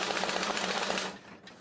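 An old hand-cranked mechanical sound-effect device imitating a machine gun gives a fast, even, rattling clatter that runs steadily and then cuts off abruptly.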